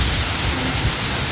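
Heavy rain pouring outdoors during rice planting, a loud dense continuous hiss of falling water that fills the space evenly and steadily, with no talking.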